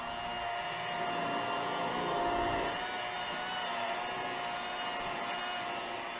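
A rotary polishing buffer running at 1000 RPM on BMW E39 paint gives a steady, continuous whirring drone that holds an even level throughout, with no talking.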